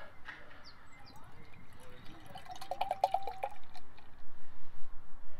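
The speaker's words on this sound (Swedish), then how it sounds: "Så kan börja med att hälla upp den här jäveln." Beer brewed with Amarillo and Citra hops glugging and splashing as it pours into a glass, a soft liquid trickle with fizz that rises in level toward the end, close and fairly quiet.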